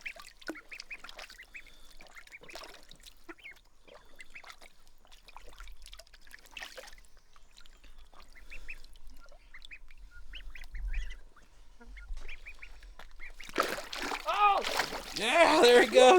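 Ducks splash and paddle in water, with light trickling and dribbling through most of it before a loud burst of splashing near the end; a voice talks over it and quacks come through now and then.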